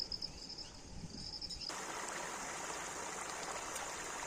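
Foamy wastewater flowing out of a garbage dump, a faint steady rushing trickle that grows fuller and brighter partway through, alone with no voices.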